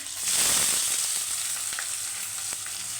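Sliced green chillies and chopped onions frying in hot oil with cumin, a dense close hiss of sizzling that swells at first and then holds steady, with a few faint clicks and no voices.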